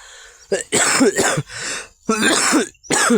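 A person with a cold coughs and clears their throat in a few harsh, close bursts separated by short pauses.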